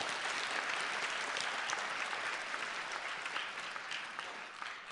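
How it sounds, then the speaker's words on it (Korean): Sustained applause from an audience at a corporate merger ceremony, a dense, even wash of many hands clapping that holds steady for the whole stretch, with no voices over it. "박수 한번 쳐주시기 바랍니다"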